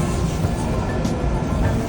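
A steady, heavy rumble of a tram in Lviv rolling past close by, with rattling metallic noise and no pauses.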